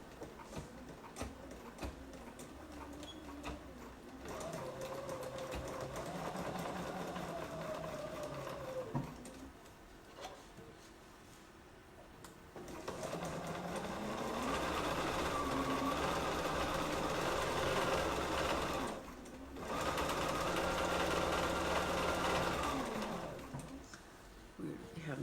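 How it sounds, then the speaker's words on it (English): A sewing machine stitching a romper, running in long steady whirring bursts with pauses between them, close by, while a person talks at times. "Now we're going to sew this way and this way."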